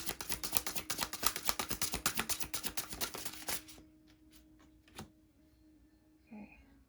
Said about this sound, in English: You can skip me shuffling if you want.